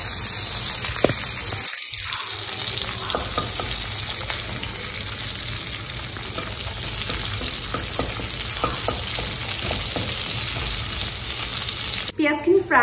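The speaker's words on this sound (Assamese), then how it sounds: "পিয়াজখিনি ফ্ৰাই হৈ আহিছে" Onions and green chilies frying in a pan for peanut chicken give a loud, continuous close sizzle with light stirring, and a brief clatter near the end.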